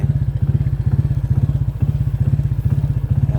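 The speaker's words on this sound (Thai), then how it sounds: "ขี่ให้ดูว่า รถเดิมๆ มัน อัตราเร่งมันดึงดีขนาดไหนนะครับ" A stock Honda PCX scooter fitted with an aftermarket ECU box is ridden under acceleration, its engine a loud, close, fast pulsing thrum that stays steady throughout without any voices.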